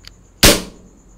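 A P229 toy pistol's slide snapping back and locking open on an empty magazine, one sharp loud close crack with a short fading ring, preceded by a faint click.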